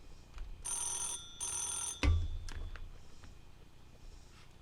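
A field telephone, an EE8 on common battery with a Swedish M37 dialer, rings in two loud bursts of bell trill, followed by a sharp clunk of the handset and quieter rattles.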